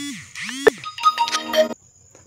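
A phone sounds a short electronic ringtone-style alert, a sweeping tone followed by a cluster of bright chiming notes, loud and close, for an incoming OTP text message.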